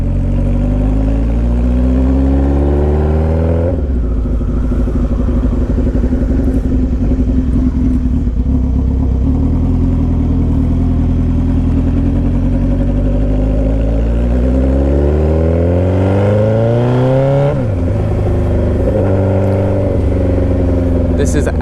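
A stretched 2007 Suzuki Hayabusa motorcycle engine while riding, loud and close, holding a steady drone, then rising and falling in pitch through several gear changes and throttle swells.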